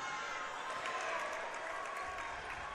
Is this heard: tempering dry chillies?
no